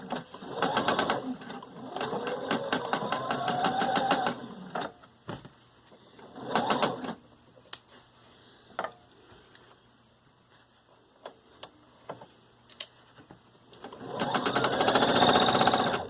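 A sewing machine stitches a garment side seam in bursts, with loud running stretches separated by quieter pauses of handling and light clicks.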